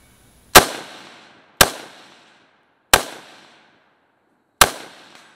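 Four sharp rifle shots from a modded 5.56 Galil ACE fired outdoors at about 150 yards, each a loud crack with a short decaying tail, spaced unevenly with quiet gaps between.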